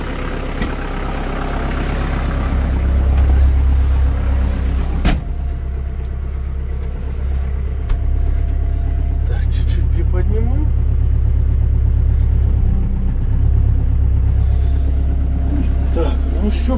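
A Kubota KL380 tractor engine running with the power take-off engaged, a constant deep rumble close by, with a few sharp clunks and voices over it.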